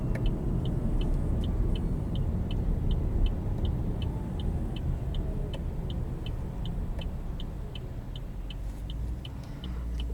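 A 2020 Chevrolet Bolt EV electric car driving, heard from inside as a steady low road rumble and tire noise with a faint, regular high ticking throughout.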